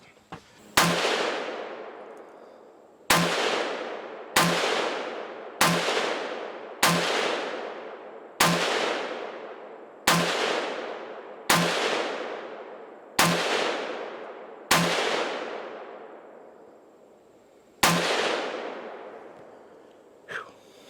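Ten loud 300 Blackout gunshots fired one at a time from Ammo Inc rounds, each a sharp crack with a long decaying ring, spaced a second or two apart with a few longer gaps.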